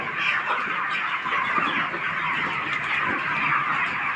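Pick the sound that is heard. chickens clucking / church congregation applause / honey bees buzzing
chickens clucking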